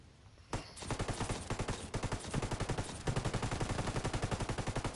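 Sustained automatic rifle fire from the Ghost Recon Wildlands shooter, a loud rapid string of shots that runs almost the entire time with no talking.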